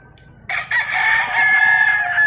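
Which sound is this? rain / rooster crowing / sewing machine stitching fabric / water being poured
rooster crowing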